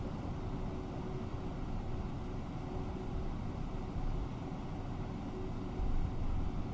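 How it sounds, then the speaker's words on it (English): An Airbus A321neo engine in the FSLabs flight simulator gives a steady, low, broad roar with a faint constant tone, even throughout and with no talking. "The engine sounds amazing."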